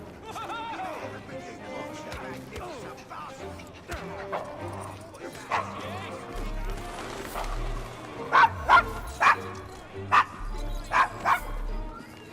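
A dog named Desmond in Assassin's Creed Syndicate, in a rough London street, gives a run of short yips and whimpering barks, fairly close, mixed with music and game voices talking.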